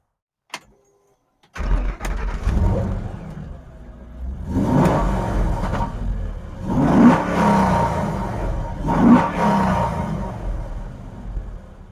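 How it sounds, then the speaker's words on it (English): A 1966 Ford Mustang restomod with a Coyote engine and dual exhaust fires up after a click, then settles into a steady loud rumble punctuated by three distinct throttle blips spaced a couple of seconds apart. "Now let's take a listen to that exhaust."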